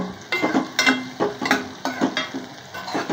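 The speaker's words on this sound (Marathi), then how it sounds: "ढवळून घ्या. कांदे जे आहेत ते परतले." Onions sauté in a pan while a spoon stirs them in regular, close scraping strokes roughly twice a second over a soft, continuous sizzle.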